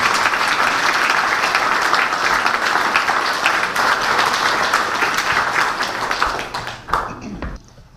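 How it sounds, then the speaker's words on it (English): Audience at a yacht club's 40th anniversary celebration claps in a long, dense, steady ovation that tapers off near the end, with a few voices underneath. "let's give the club and yourselves a big round of applause to celebrate our service"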